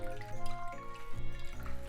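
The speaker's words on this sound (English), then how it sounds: "Try to squeeze out as much as water as possible." Water squeezed by hand from salted vegetables for kimchi, including cucumber, drips and trickles into a bowl in irregular small splashes, close and fairly quiet, alone without talk.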